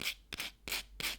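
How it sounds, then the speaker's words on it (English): A nail buffer rubs across a fingernail in four slow, even strokes, each a soft, close, breathy scuff separated by short pauses, with no voices. "this is the buffing side, and you can hear that it's not filing, it's just buffing"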